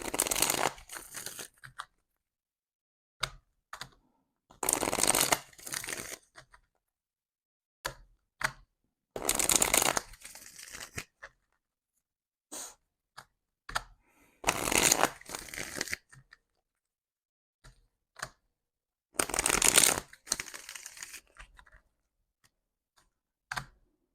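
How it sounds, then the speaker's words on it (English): Tarot cards are shuffled in repeated bursts of riffling and snapping, each lasting a second or two and separated by near-silent pauses. "All right, I'm now going to be shuffling."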